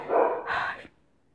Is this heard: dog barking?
yes